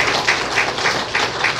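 Applause from a church congregation at a deaconess installation service in Tongyeong, a brief burst of clapping from a gathered crowd, fairly loud and steady for under two seconds.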